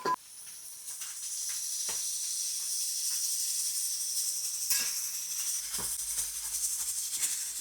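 Ginger garlic paste frying in a pan for a fish curry sizzles with a loud, continuous high hiss, broken by a few soft clicks and scrapes of stirring. No voices.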